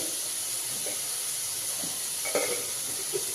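Vegetables sauté in a hot pan on raised heat for an Onam-style stew, with a loud, continuous sizzling hiss throughout and a few brief stirring knocks.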